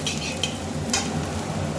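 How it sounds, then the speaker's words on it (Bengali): Onions frying in a pan in a home kitchen, a steady close sizzle with a couple of brief stirring scrapes, no voices. "এদিকে পেঁয়াজ ভাজা চলছে"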